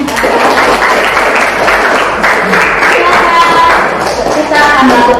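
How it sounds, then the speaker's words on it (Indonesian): Children clap together in a classroom during an observed lesson, a loud, busy patter of many small hands, with a teacher's voice and some chatter mixed in. "oke tepuk tangan semuanya nih"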